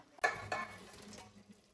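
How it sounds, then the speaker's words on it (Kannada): Eggs being mixed into fried masala in a pan for egg biryani, two quick close scrapes of a utensil against the pan followed by a soft sizzling tail, brief and otherwise quiet. "ಎಗ್ ಎಲ್ಲ ಮಿಕ್ಸ್ ಮಾಡ್ಕೋತೀನಿ ಇವಾಗ."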